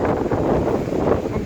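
Wind blows steadily at the seaside in Gelendzhik on a hot September day, a loud continuous broadband rush buffeting the microphone with no pauses.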